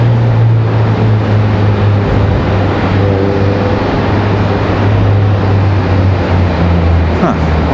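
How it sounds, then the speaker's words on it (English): A car passes close by near Charlotte Douglas International Airport with a low engine rumble that swells and fades, over steady background traffic noise. "my car just went by."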